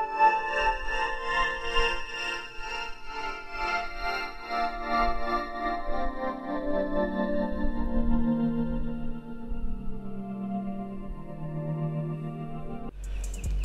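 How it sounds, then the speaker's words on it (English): Ethernal synth pad from the Xenology plugin, a sustained, evolving harmonic tone with slowly shifting chords that gradually fade, played alone and ending with a brief low thump. "I settled on this pad sound from Xenology called Ethernal,"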